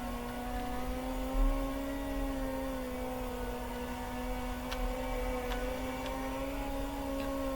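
A sprint car engine in the World of Outlaws video game holds full throttle through the corners, a steady, loud droning whine with no pauses or talk.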